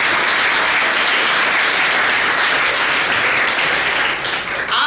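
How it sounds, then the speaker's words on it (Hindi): An audience gives loud, dense applause for children at a large public gathering, a continuous wall of clapping that holds steady before easing slightly at the very end. "इन बच्चों को जोरदार तालियां बजाइए"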